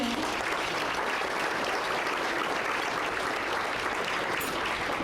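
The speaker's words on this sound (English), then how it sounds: "So a round of applause for all of you." An audience at a town business appreciation breakfast applauds, steady dense clapping from many hands that fills the whole moment at an even, fairly loud level.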